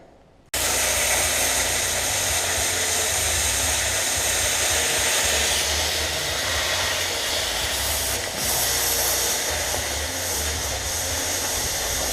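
Plasma cutter slicing through the chassis of a 1939 Ford coupe produces a loud, steady roaring hiss that starts abruptly and continues unbroken for several seconds, close to the listener, with no talking.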